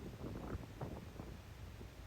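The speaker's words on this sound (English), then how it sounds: "right now it's really windy" Steady mountain wind on a hiking trail in the San Gabriel Mountains buffets the microphone in a low, rumbling roar that keeps going without a break.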